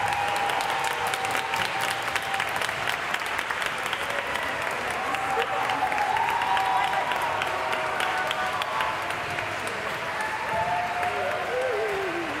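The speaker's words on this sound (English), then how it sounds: "So please give them a big round of applause." Sustained applause from a concert audience greets a group coming on stage at a family weekend concert, steady and full throughout with a few voices and whistles rising over the clapping.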